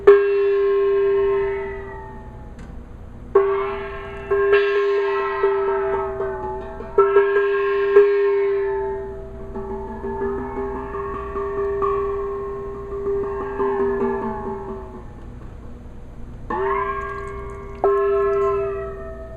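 A gong lowered into water and struck, producing long sustained metallic tones whose pitch bends and wavers as it dips, with several fresh strikes and swelling, eerie overtones and no talking.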